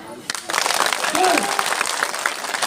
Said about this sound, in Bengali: দেন তো একটা হাততালি দেন